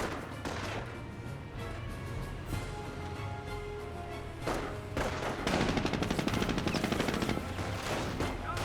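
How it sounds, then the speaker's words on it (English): Rapid machine-gun bursts from a jeep in the Company of Heroes game, aimed at Panzer Grenadier infantry, rattle over a dense backdrop of battle noise and scattered gunfire, growing heavier and more continuous toward the end. "Jeep here, firing away, getting some hits there on the Panzer Grenadiers"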